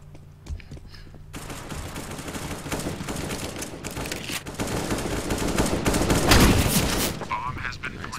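Rapid bursts of automatic gunfire from the video game CS:GO on the Mirage map, dense overlapping shots that build into a loud sustained fusillade after a quieter opening.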